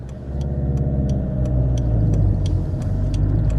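Fiat Multipla diesel engine running after stalling, a steady low rumble that swells slightly as it revs, heard close up with faint regular ticking above it.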